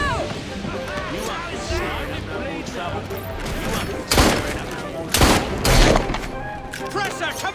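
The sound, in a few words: gunfire in the video game Assassin's Creed Syndicate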